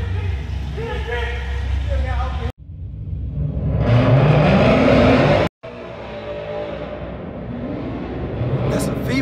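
A car sliding and revving at a nighttime car meet in Memphis, engine surging and rising in bursts over crowd noise, with someone talking over it and two brief cuts breaking the sound.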